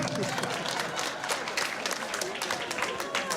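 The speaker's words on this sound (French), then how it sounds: "Applaudissez pour lui." A French-speaking audience applauds a volunteer, dense and continuous clapping that holds at an even, fairly loud level for several seconds.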